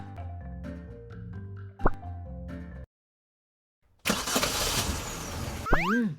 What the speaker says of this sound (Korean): 어째서 실내에서 엔진 소리가?